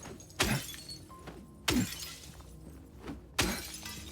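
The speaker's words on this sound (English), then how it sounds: "of the glass breaking, which is why I break the windows" Glass windows shattering in the video game Silent Hill 2, three loud close crashes about a second and a half apart, each a sharp burst trailing off into tinkling shards over a low ambient hum.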